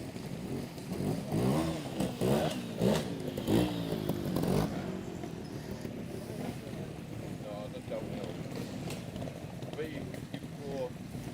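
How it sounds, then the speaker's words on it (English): Old trials motorcycles ridden by clubman riders pass through a club trials section in North East England, their engines revving and surging in bursts over blustery wind noise, then fading to a steadier distant drone. "Another nice old bike coming through."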